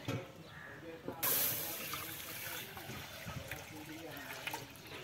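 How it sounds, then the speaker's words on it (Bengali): Milk from a home cow being poured into a pot to make chhana for rasgulla, a steady liquid rush that starts abruptly and runs on at moderate loudness. "এই যে বন্ধু দুধটা ঢেলে দিয়েছি"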